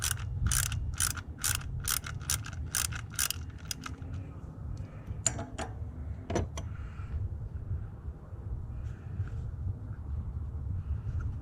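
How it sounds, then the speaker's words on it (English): A 10mm socket ratchet loosening the ignition coil pack bolt on a Toyota engine, a close rapid run of about eight crisp ratcheting clicks, then a few scattered metallic taps and a low steady hum. "you take your 10mm socket, you get it on the coil pack, and you get that loosened"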